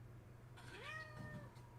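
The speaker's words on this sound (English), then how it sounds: "Damn cat." A house cat gives a single rising then falling meow, faint and brief, over a low background hum.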